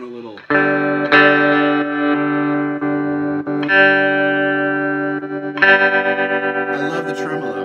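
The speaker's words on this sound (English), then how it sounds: "I love the tremolo" A Rickenbacker 330 electric guitar through a Boss Katana 50 amp plays sustained chords with a shimmering, pulsing tremolo. The notes ring loudly and fade between strums, and a final chord wavers rhythmically.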